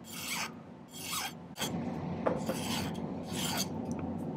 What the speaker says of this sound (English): a lot of my beginner students tell me they just hate filing, but I kind of like filing.